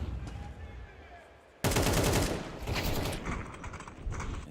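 Rapid gunfire bursts from a Counter-Strike match in a NAVI vs Vitality grand final, a quiet stretch then a sudden loud volley of shots followed by further firing, with a commentator's voice over it.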